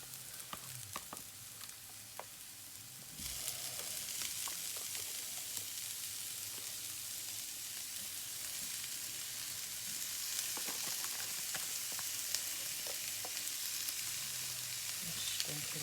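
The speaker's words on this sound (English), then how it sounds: "This is where we add our mince meat." Minced meat fries in a pan for spaghetti bolognese, a soft steady sizzle that swells louder after the meat goes in, with occasional scraping of a utensil against the pan and no talking.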